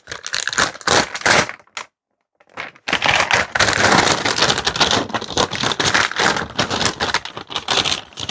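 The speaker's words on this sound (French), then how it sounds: "nous avons une box spéciale Overlord. Donc, on va l'ouvrir ensemble." A special Overlord merchandise box being opened, with dense close rustling, tapping and rattling of packaging in bursts, a short pause, then continuous crackling handling.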